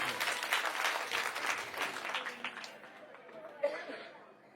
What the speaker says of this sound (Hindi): एक बार जोरदार ताली अपने लिए बजाइए सब लोग